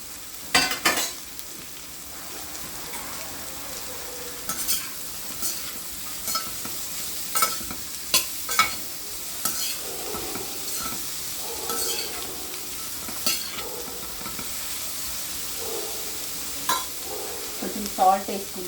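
Onion, cabbage, carrot and capsicum stir-frying in a pan for chicken noodles, with a steady sizzle underneath and periodic sharp scrapes and clanks from the spatula tossing the vegetables.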